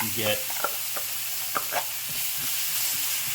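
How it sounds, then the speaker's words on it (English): Tomato sauce being stirred into rice in a hot pan for Spanish rice gives a soft steady sizzle with a few scraping spoon strokes, fairly quiet and without talk. "you want to incorporate the tomato sauce in with the rice. You want to cook it together"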